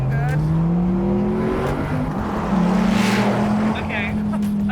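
A Dodge Viper V10 engine drones near, its note dipping during a clumsy gear change before rising again into a steady, strained tone, with background chatter nearby.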